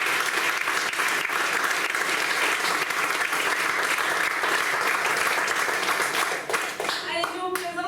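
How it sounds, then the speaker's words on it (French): A theatre audience applauds an actor with sustained, dense clapping that stays loud and even for several seconds before tapering at the end, with a voice briefly audible over it. "On peut l'applaudir bien fort."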